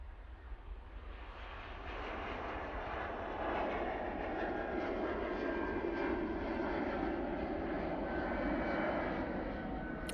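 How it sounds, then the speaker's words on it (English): An Air France Airbus A380 airliner departs Manchester Airport bound for Paris, giving a steady, loud, broad jet roar that rises in the first seconds and then holds at a distant but powerful level, with no voices. "Air France A380 going back off to Paris Charles de Gaulle Airport"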